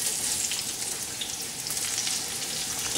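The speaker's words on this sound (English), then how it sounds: "We'll saute these with just garlic slices" Zucchini and squash strips sizzle in hot oil with garlic slices in a pan, a steady dense frying hiss that carries evenly and fairly close throughout with no pauses.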